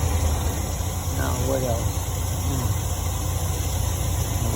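A 2010 GMC Savana van's 4.3-liter engine idles with a steady low rumble and constant hum, while someone talks briefly over it.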